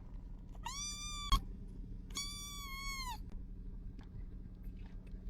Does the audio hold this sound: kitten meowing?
yes